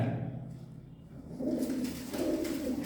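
A pigeon, a short-tailed female, gives low soft coos in two swelling bursts, close by in a quiet setting with no talk.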